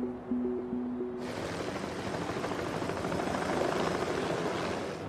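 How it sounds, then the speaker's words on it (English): After a brief low hum, a helicopter's loud, steady rotor and engine roar takes over and holds constant, close and unbroken, flying low over a volcanic area. "Helicopter is the only way in."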